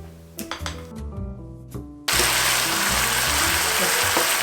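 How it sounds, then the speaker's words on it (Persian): Meat and onion frying in a pan, a steady broadband sizzle that starts abruptly partway through and continues loud and even, preceded by brief clinks and knocks of kitchen handling. "حالا گوشت رو با پیاز شروع میکنم به سرخ کردن"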